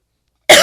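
A single sharp human cough bursts out after a stretch of silence, loud and close, filling the short clip with a harsh, noisy rasp.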